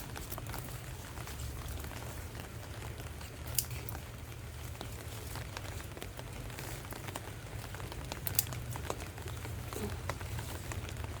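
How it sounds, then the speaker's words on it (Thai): Steady light rain patters in a vegetable garden, a soft, even hiss of drops on leaves and soil with a low hum beneath and a couple of sharper drips. "ฝนตกตกอย่างนี้"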